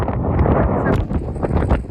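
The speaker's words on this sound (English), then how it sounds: "yeah, it's very, very windy out here." Strong wind in the Franklin Mountains near El Paso roars and buffets the microphone in a loud, continuous, gusting rumble that fills the whole stretch, with no clear voice over it.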